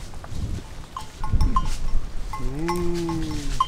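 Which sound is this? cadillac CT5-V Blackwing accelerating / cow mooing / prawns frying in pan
cow mooing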